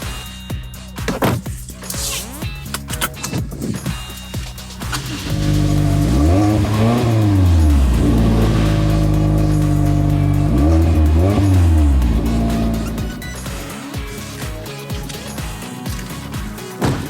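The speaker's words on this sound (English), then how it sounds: "driving excitement is further enhanced through the exhaust system we saw earlier, which uses a conical design and tuned muffler to deliver a pulse-quickening tone" A Toyota Corolla Apex Edition's exhaust, with a conical design and tuned muffler, roars loudly as the car accelerates hard in two strong surges, its engine note sweeping up and falling back between them.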